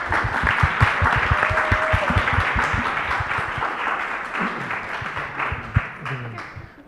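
Round of applause from the audience at a youth summit in Berlin, a crowd clapping steadily and gradually tapering off, with a few sharp individual claps and some voices mixed underneath.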